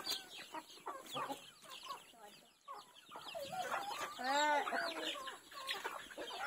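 Several chickens cluck and squawk nearby in overlapping, busy bursts, with a few louder drawn-out calls amid the flock chatter.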